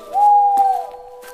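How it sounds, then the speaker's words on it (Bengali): A night bird in a cartoon scene near a cremation ground gives a single drawn-out, whistling hoot that rises and then fades, with a few faint clicks around it. "শিয়ালা রাত পাখির আওয়াজ ভেসে আসছে"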